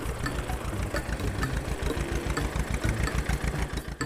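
A small engine on a mini wooden tractor runs with a steady, rapid chugging idle, close and moderately loud, with a rough knocking pulse throughout.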